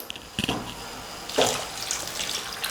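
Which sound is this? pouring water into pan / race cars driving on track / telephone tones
pouring water into pan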